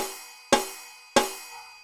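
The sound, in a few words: Yamaha DTXM12 pad: stacked snare, splash cymbal, cowbell, triangle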